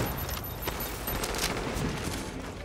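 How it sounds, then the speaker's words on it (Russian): Gunfire from a sniper in Tom Clancy's The Division, a dense burst of shots and impacts crackling nonstop through a short, busy firefight. "Блин, снайпер. Стреляет."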